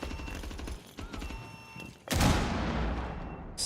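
A grenade blows up in Rainbow Six Siege: a sudden loud, broad blast that rolls off into a decaying rumble, following softer game noises and scattered clicks.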